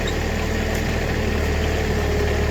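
A backhoe engine idles close by while a hole is dug for planting blueberry bushes, a steady, loud, low rumbling drone with no break and no voices.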